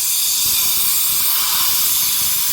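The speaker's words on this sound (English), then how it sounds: "I want to get some air in there. Try to clean out the crack a little bit." Compressed air blown into a crack in the oil tank of a McCulloch Pro Mac 700 chainsaw, a steady, loud, close hiss with a bright airy rush that holds unbroken from start to finish.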